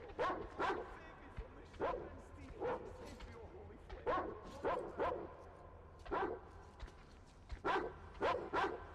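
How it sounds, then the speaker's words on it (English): Dogs bark in the video game Metro Exodus, a pack yelping and barking in repeated clustered bursts, about a dozen sharp barks at a steady moderate distance. "There are dogs everywhere."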